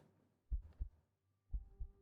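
A slow heartbeat sound effect in a tabletop roleplaying game session: two paired low thumps, a pause, then two more, deep and muffled against near silence.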